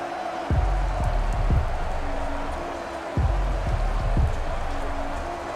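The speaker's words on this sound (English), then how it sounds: "It's not looking like the rain's going to let up anytime soon." Steady rain falls during a rainy Madden NFL 21 game between the Houston Texans and Kansas City Chiefs, a constant loud hiss with dull low thumps and crowd noise rumbling underneath.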